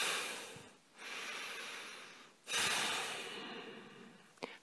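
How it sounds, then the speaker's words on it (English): Forceful breathing during an athletic yoga pose, two long, powerful breaths with a sharp rushing onset and a slow fade, close and loud, with a brief snort-like sniff at the end. "powerful breaths, athletic breaths"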